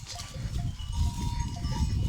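Flock of sheep grazing outdoors, with a continuous close rustle and chewing of animals moving through vegetation, a faint bell-like tinkle and occasional distant bleats.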